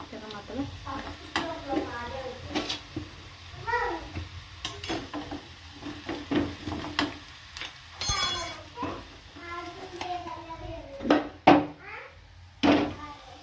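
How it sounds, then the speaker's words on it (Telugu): Spoon stirring fenugreek leaves into cooked dal in a pot, with repeated scraping clinks and stirs at close range and voices talking intermittently over them. "పప్పులో కలుపుకుంటాను మెంతికూర పప్పులో కలుపుకుంటున్నాను"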